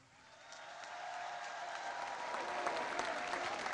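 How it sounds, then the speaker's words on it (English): Crowd applause at an outdoor political speech in Warsaw, Poland swells gradually from quiet into broad, sustained clapping from a large audience, fairly distant and even in texture. "we applaud Poland"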